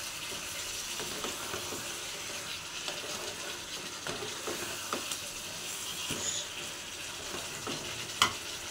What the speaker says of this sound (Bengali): দিয়ে তলাটাকে ভালো করে নেড়ে দেবো, যাতে মশলাগুলো তলায় লেগে না যায়